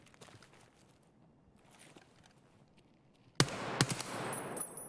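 Escape from Tarkov RPKT Mod-1 AK-104 rifle fires a few sharp single shots in a rapid cluster, loud and close after a quiet stretch of low background noise, with a lingering ring-out.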